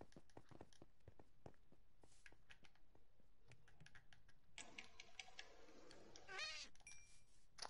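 A house cat meows a few times in the second half, close and fairly clear, after a stretch of rapid computer keyboard typing that clicks on throughout.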